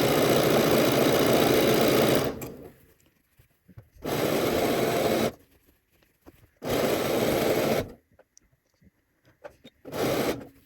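A sewing machine stitches the elastic leg seam of a swimsuit in three loud, steady runs of about two seconds each, separated by quiet pauses, with a fourth short burst at the end.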